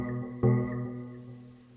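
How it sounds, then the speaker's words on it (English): A plucked accent synth preset for a dark trap beat, a soft note sustaining before one sharper plucked hit that rings and slowly decays, fairly quiet and alone. "it's just kind of like a plucked accent kind of sound"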